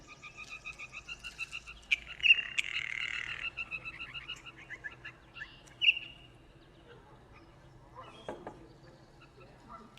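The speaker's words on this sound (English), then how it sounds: "that's just a sampling of the many different noises that blue jays make" A series of varied, raspy and croaking blue jay calls, some rising squawks and rattling notes, moderately close with quiet gaps between.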